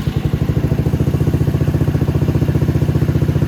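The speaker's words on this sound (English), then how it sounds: "I'm going to show you just how nice this bike starts" A Venom x22GT 250cc motorcycle engine turns over and settles into a steady, close, loud idle with an even, rapid thumping rhythm throughout, with no talking over it.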